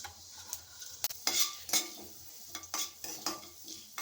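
Mustard seeds and cumin temper in hot oil in a pan, quiet sizzling punctuated by sharp pops and metallic clinks of a spoon against the pan, close and fairly faint.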